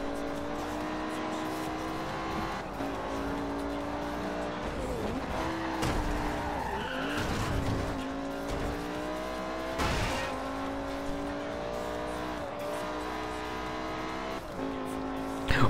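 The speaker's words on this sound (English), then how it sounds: "Okay, that was a car." Car tires squealing and skidding in the Forza Horizon racing game, a sustained screech layered over a revving engine and background game music, loud and continuous with a sharper burst near the end.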